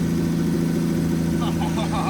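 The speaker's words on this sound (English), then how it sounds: "All right, so we have this thing running very well" A 1954 Chevrolet engine, revived after two decades of sitting, idles steadily with a low, even rumble under faint background chatter.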